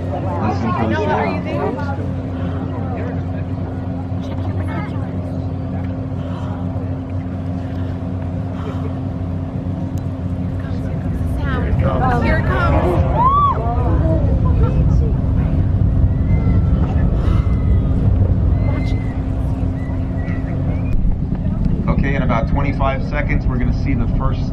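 A distant SpaceX rocket launch rumbles at night, a low, steady roar that swells and thickens partway through and holds, with people talking and murmuring over it throughout.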